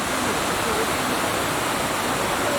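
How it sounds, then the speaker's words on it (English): A waterfall about 100 feet high at Mammoth Lakes, above one of the lakes, makes a steady, dense hiss of rushing water, loud and unbroken throughout. "Got this little waterfall,"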